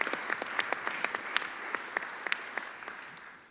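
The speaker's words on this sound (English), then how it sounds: "Give him an applause." Audience applause at a Pecora 20 conference plenary session, a steady crowd clapping with a few sharper individual claps standing out, sustained throughout and tapering slightly at the end.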